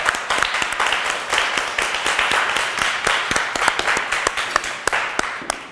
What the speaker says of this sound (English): How about we just give Jocelyn a nice round of applause?